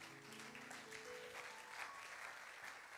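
A church congregation applauds for Yahweh during a French sermon, steady sustained clapping from many hands filling the room for about three seconds, with no speech over it.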